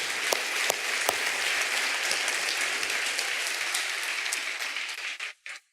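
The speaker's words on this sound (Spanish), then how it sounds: "Podemos dar un aplauso al Señor por esta gente que hace este trabajo." Church congregation applauding, a steady full round of clapping with a few sharp individual claps standing out, tapering off abruptly in the final second.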